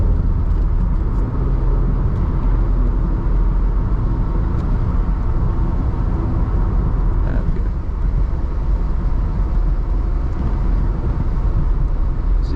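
A 170,000-mile Toyota MR2 accelerates gently through traffic, heard from inside the cabin as a steady, loud engine and road drone with no pauses.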